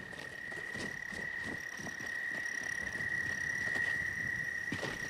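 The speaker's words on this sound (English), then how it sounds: "those frogs are a bit loud" Loud frogs croak in the Skyrim VR game world, a steady high-pitched trilling chorus with insect-like chirps layered over soft ambient pattering, continuous and fairly close.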